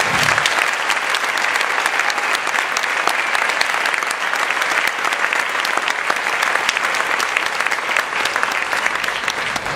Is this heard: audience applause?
yes